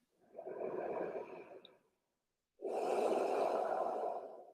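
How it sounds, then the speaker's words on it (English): Two slow breaths through the nose during a sunrise yoga practice, a soft inhale followed by a pause and a longer, fuller exhale, close and quiet with no talk. "And now breathing normally again,"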